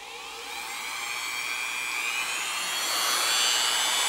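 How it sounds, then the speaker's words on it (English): A power tool cuts a notch into the stripped screw head of a knife, giving a continuous high-pitched whine that slowly swells louder and holds steady. "Go very, very slow and very steady and cut this screw head in half"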